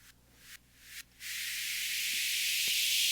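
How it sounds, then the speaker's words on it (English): A steam-release uplifter sound effect without sidechain compression: a few short hissing bursts, then a long, steady rush of steam that swells and holds, loud and alone. "Without it, it's just a regular steam release uplifter."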